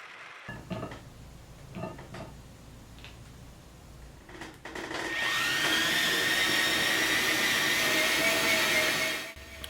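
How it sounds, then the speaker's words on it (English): A milling machine cuts a clearance slot in a metal work table for a belt grinder; light tool clatter comes first, then a loud, sustained cutting whine with a steady high tone that runs for several seconds before stopping. "Now, milling out a clearance slot so that the table can be pushed in to surround the platen"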